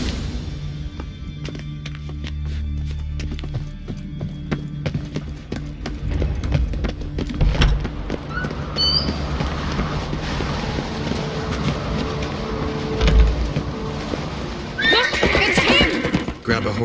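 Horses gallop with rapid clip-clop hoofbeats and neigh in The Witcher 3, with game music and voices heard throughout; a sharp whinny rises near the end over the running hooves.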